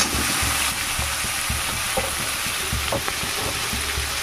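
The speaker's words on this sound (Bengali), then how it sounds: "ছোলাগুলোকে একটু নেড়ে নেবো তেলে" Chickpeas frying in oil while being stirred, a steady close sizzle with regular knocking and scraping strokes of a spoon in the pan.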